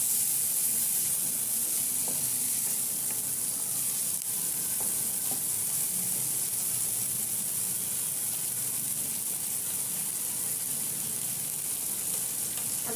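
Frozen peas lightly frying in a pan for masala Maggi, a continuous, even hiss of sizzling oil, close and steady throughout, with faint occasional stirring.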